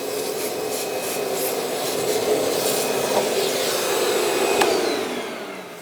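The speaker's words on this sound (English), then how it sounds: "I'm just going to use a vacuum," Vacuum cleaner running steadily to clean up debris after removing a step rail cap on a 2011-2018 Ram 1500, a continuous broadband whoosh with slight rubbing and scraping shifts as the nozzle moves, close up with no speech.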